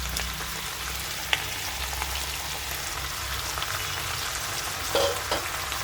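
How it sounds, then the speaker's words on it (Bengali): Grated tomato pulp frying with vegetables in a pan for a fish curry, a steady close sizzle with a few stirring clicks and scrapes and no talking. "টমেটোটার সাথে পুরো ভালো করে সবজিটাকে কষিয়ে নেব"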